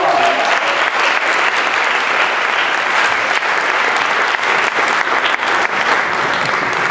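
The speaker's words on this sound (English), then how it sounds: "Let's give the choir another round of applause." A symposium audience gives a choir a loud, sustained round of applause, a dense wash of many hands clapping steadily throughout at close range.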